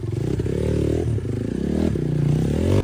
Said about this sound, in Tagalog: luoy kayo masangit ang makina